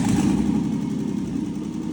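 A Nissan VG33 engine swapped into an Xterra idles steadily, a close, loud low-pitched rumble with a fine regular pulse and no voices.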